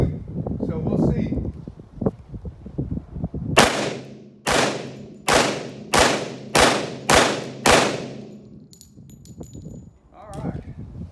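A 1911 pistol firing 230 grain .45 ACP rounds outdoors, seven sharp loud shots in a quick, fairly even string, each with a short echoing tail, with rustling and a few brief handling noises before and after.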